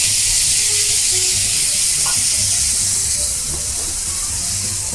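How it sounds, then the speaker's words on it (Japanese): Browned gyoza in a hot pan get a splash of water, setting off a loud, steady sizzle and hiss of steam that fills the whole stretch and eases only slightly toward the end. "焼き色がつきましたらお水加えていくんですが"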